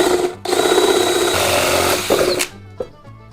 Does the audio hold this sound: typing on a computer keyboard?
no